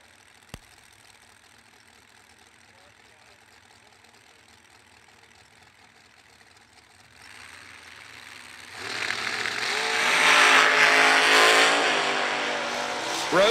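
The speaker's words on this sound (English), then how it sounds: "Lyle Roseman in the Team Slushy Dragster, down 430." A drag racing dragster at a drag strip idles distantly at first, then erupts into a loud, harsh roar that swells and holds as it launches down the strip.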